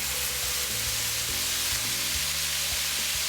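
Oyster sauce hits hot vegetable fried rice in a pan and sizzles, a steady close hiss of frying with low clatter underneath, no voices.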